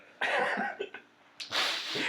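A person sneezes twice in quick succession, each a sharp burst of breathy noise with a short gasp between, close and moderately loud, with no speech.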